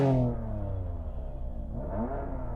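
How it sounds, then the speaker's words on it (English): A BMW engine revs close by, rising and falling in pitch with a strong, throaty harmonic tone as the throttle is blipped and held, loud and alone. "let's have a listen to that BMW"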